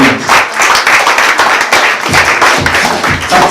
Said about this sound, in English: Ladies and gentlemen, a wonderful round of applause for Captain Abdul Salami Mohammed.